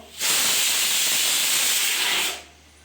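Steady loud hissing blast of steam from a pressure cooker cooking lentils, one continuous whistle lasting about two seconds with no talk over it.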